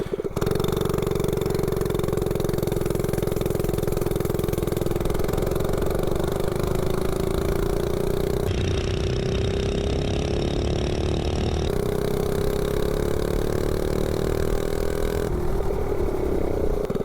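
Steady, loud, close running of a 98cc Rascal mini bike engine fitted with a slide carb and header pipe, its pitch drifting slightly as the idle is adjusted, with no talking.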